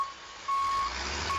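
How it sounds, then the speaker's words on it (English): A delivery truck's reversing alarm sounds in steady, shrill, evenly spaced beeps over low engine rumble, heard alone without talk. "this might just sound like a shrill beep"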